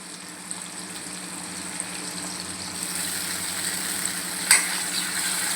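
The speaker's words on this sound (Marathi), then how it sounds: "आता आपण थोडंसं अद्रक लसूण पेस्ट घालूया।" Ginger garlic paste added to onions cooking in hot oil, for a spiced black chickpea curry, gives a steady soft sizzle throughout, with a brief sharp crackle burst near the end.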